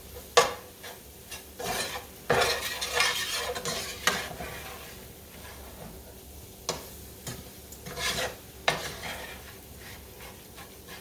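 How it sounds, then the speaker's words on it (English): A spoon stirs flour through sausage gravy in a worn skillet, scraping and clicking at irregular intervals over a soft, steady sizzle, close by with no voices. "So you're going to have to stir this around."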